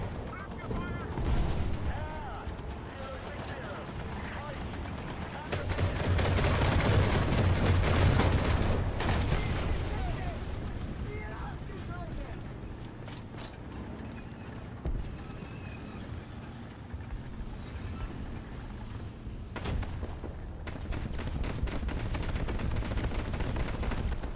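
Artillery flak fires in the tank combat video game Junk Thunder, with dense, rumbling bursts of gunfire rolling on for the whole stretch, swelling loudest partway through, while voices come in at times.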